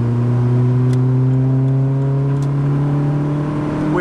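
A car engine with single-cam VTEC revs steadily upward under load for several seconds, a loud continuous tone rising in pitch as it climbs toward the VTEC crossover, with no talking.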